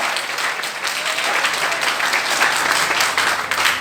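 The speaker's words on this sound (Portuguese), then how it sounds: "Dá uma salva de palmas para o Senhor Jesus" A church congregation applauds with dense, sustained clapping at a steady level throughout, a full room of hands heard close and loud without pauses.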